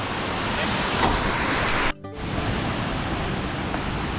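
Strong waterfall in heavy rain at Mae Kampong, a loud continuous rushing roar of falling water, close and steady, briefly cut by a sharp drop near the middle before resuming.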